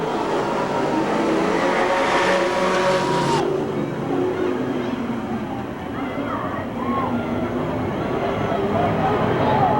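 Race cars roar at Merced Speedway during the 1989 Stofle Classic as the green flag drops, a loud continuous blur of engines with crowd noise and an announcer talking over it.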